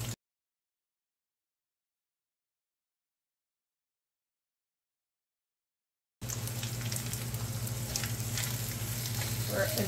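After about six seconds of silence, onion and shrimp begin sautéing in a pan for Thai drunken noodles. The sizzle is steady and moderately loud, broken by light stirring, and no voice is heard.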